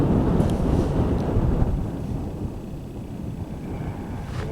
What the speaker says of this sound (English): The wind did pick up